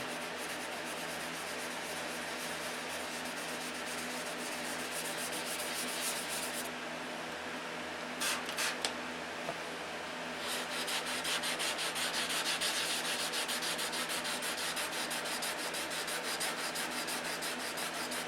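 Wet sanding with 600-grit sandpaper on an aircraft N-number repair, a close, continuous abrasive rubbing that breaks off briefly mid-way and then resumes, without any talking.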